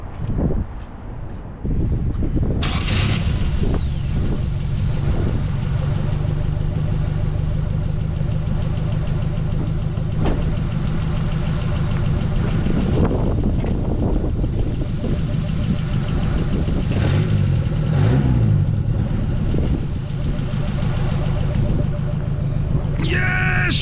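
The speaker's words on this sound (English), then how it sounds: "Yeah, she runs! Look at that, guys. She's running and she's freaking idling." A Mazda B2200 pickup truck engine, running again after twenty years on a new fuel system, cranks and catches, then settles into a steady, loud idle with some knocking, close to the microphone under wind noise.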